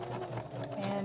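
A sewing machine runs steadily while stitching across an apron seam to lock it in place, a continuous close mechanical whir with a faint rhythmic pulse.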